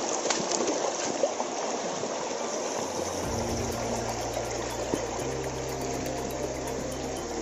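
A river stream at a waterfall area flows steadily nearby, a broad continuous rushing trickle, with a low engine-like drone joining partway through.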